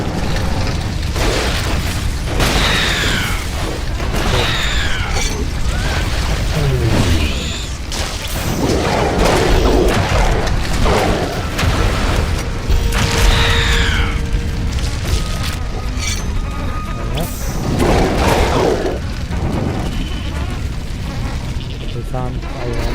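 Structures being destroyed in The Riftbreaker set off repeated booming explosions with whooshing bursts, spread through the clip, while a voice talks over them.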